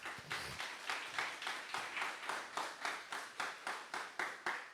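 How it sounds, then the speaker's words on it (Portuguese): A church congregation claps in steady rhythmic unison, about three claps per second, fairly faint and a little distant, with no talking over it. "Vamos aplaudir Jesus."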